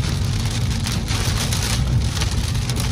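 Heavy monsoon rain pours down steadily in a severe thunderstorm with damaging winds in Phoenix, a loud, dense, continuous hiss of drops drumming on surfaces with no voices over it.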